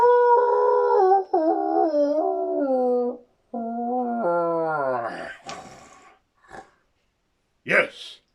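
A dog howls in long rising and falling wails, then a few short yelps and whimpers trail off into silence.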